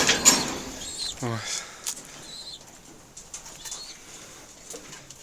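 Pigeons at a pigeon loft flap their wings in short bursts close by, with soft cooing and faint calls in a quiet outdoor setting.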